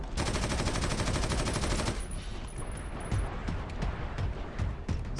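Rapid-fire gunfire from a weapon in Warhammer 40K: Eternal Crusade, a Blood Angel versus Chaos Space Marine battle, roars as a dense, continuous loud burst. It then gives way to scattered, slightly more distant shots and battle noise.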